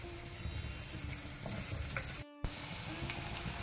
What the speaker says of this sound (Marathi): 2 टेबलस्पूनां नारळेल तेल घालचें आनी ताका अर्दो पियाव बारीक शिंदून तो घालया